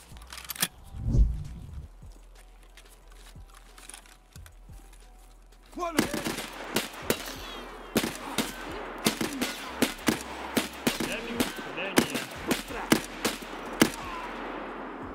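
Escape from Tarkov gunfire: a few sharp, isolated shots at first, then a long stretch of rapid, loud cracks in uneven bursts over a low background rumble.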